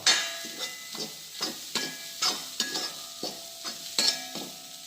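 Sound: stirring green gram and egg thoran in a pan

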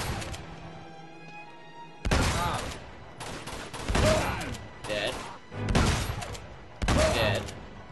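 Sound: gunfire from the video game Uncharted 2

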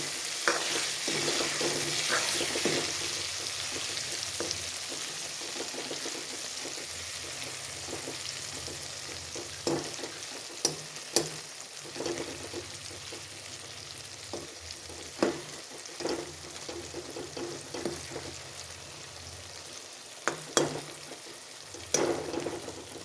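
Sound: stuffed eggplants frying and being turned in a pan

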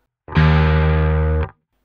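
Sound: distorted bass guitar playing black metal notes

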